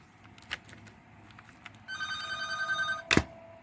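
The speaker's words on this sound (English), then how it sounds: "Pardon the phone ringing." A telephone rings indoors in a few bright electronic bursts, moderately near, with a sharp knock partway through and no speech.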